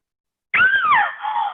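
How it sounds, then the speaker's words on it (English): A single loud, sustained scream rises sharply and then wavers downward before cutting off, heard alone against complete silence. "suddenly you hear a scream"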